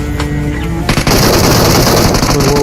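Sustained automatic gunfire from a teammate in the BGMI video game, loud and close, starting abruptly after a quieter moment and continuing as a dense rattling burst.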